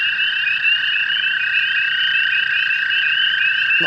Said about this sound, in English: They're literally toads all over the place.